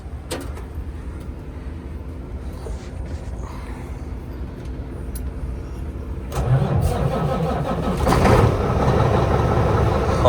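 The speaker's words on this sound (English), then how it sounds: "let's make sure my truck starts and we have no problems" A Cummins ISX diesel truck engine with a fuel problem cranks and fires up, then settles into a loud, rough idle that grows stronger toward the end.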